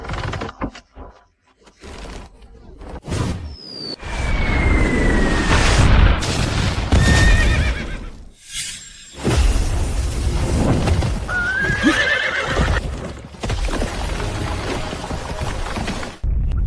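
In an anime battle scene, cavalry horses charge, whinnying loudly over pounding hooves, booming impacts and rushing battle noise, with sharp cuts between loud, dense passages.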